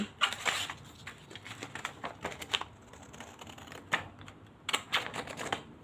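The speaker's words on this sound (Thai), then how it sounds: "ตัดกระดาษตามเส้นรอยปะเลย" Scissors snip paper along a dotted line in a kindergarten art activity, a quick run of crisp clipping cuts, close and fairly quiet, with no talk.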